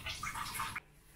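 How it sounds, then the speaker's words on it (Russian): Milk drains off soaked liver in a short, wet gush that runs under a second and then stops abruptly, close and fairly loud. "Для начала сольем молоко с печенью."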